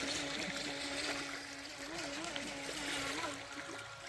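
Wave Master high speed RC boat running back across water, its small electric motor a wavering whine over splashing and wind noise, moderately distant.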